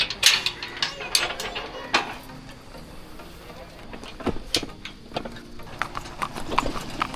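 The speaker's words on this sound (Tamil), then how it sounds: "நம்ம இந்த குதிரை வண்டியில் தாங்க போக போகிறோம்." Horse-drawn cart in a Kerala forest, hooves clip-clopping in an irregular rhythm alongside creaking, rattling cart mechanisms, moderately close with a faint voice now and then.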